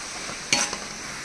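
Chili powder and green chilies sautéing in hot oil for a Tamil-style fish biryani: a steady sizzling hiss with a brief louder scrape of stirring in the middle, close up with no voices.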